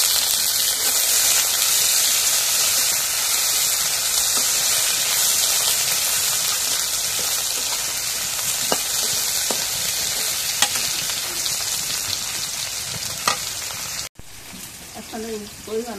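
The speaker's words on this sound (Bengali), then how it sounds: "শুটকিটা তেলের মধ্যে ভেজে নিই।" Dried fish (shutki) frying in hot oil in a home kitchen gives a steady, loud sizzle with occasional sharp pops and stirring clinks, ending in a brief cut and quieter sounds.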